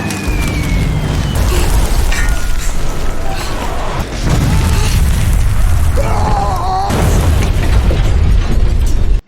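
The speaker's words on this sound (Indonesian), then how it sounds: "Tiba-tiba angkatan udara Nazi membombardir parit mereka." Heavy bombing from an air raid on trenches in a WWII war film set at Sevastopol: continuous loud rumbling blasts and roaring explosions fill the scene, with a brief lull midway before the barrage surges again.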